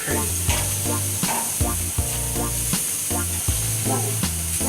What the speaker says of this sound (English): the shrimps are starting to cook